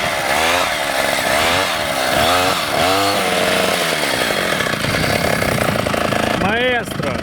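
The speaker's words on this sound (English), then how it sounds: "That ATV can cope with the deepest snow." ATV engine ploughing through deep snow, loud and close, revving up and down in repeated surges with a brief drop in pitch near the end, a voice talking over it.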